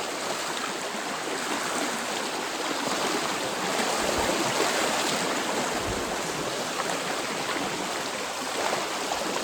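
Flooded river water rushing steadily, a loud, continuous broadband roar with no pauses, heard alone throughout.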